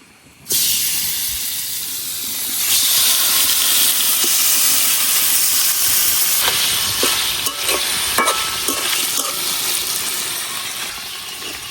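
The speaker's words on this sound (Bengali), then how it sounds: "এখন এই তেলের মধ্যে মাছগুলো বাইজে নিয়াম" Taki fish frying in hot oil in a kadai, a loud steady sizzle and hiss that bursts in suddenly and carries on with occasional crackles and spatters, with no talking.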